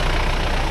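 A motorbike engine idles up close with a steady low throbbing rumble, loud and unbroken through the short moment, with no voices.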